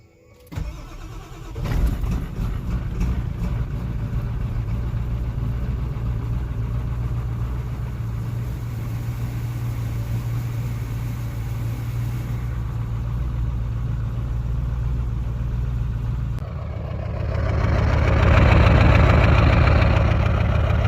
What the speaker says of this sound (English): Give her the old cold start here.